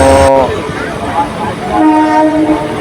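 A moving train on the route into Howrah station, Kolkata, rumbles steadily close by with a horn-like tonal blast, and a voice is heard underneath.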